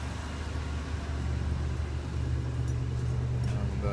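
A car engine idles steadily just after start-up, a continuous low rumble that stays even and close.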